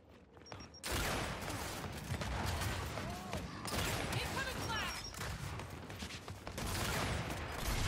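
Dense, continuous video game gunfire from a Gears of War free-for-all match, rapid overlapping shots and explosions filling the whole stretch, loud and close, with a player speaking faintly underneath.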